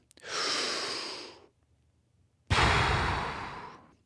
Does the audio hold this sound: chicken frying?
no